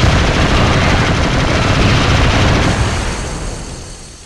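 Heavy sustained gunfire and explosions from the PS2 shooter Killzone, a dense, loud continuous barrage of machine-gun bursts and blasts that fills the whole stretch and tapers off slightly toward the end.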